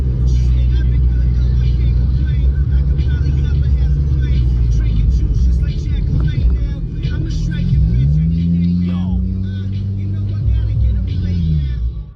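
A car drives toward a lone road worker at night, its engine a loud, steady low rumble that rises in pitch and sweeps near the end as the vehicle draws close.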